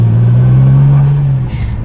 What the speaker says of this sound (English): I got that turbo noise up front.